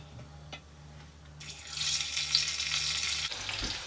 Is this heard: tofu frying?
yes